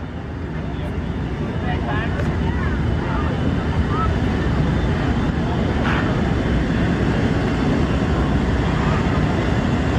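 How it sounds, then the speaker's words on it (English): Strike fighter jets flying past at a Navy air show roar steadily as a broad, sustained engine rumble with wind buffeting, with an announcer's voice faintly over it. "That's Fisk, Tree, Lucky, and Master flying the airplane today"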